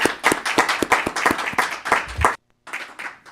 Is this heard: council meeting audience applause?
yes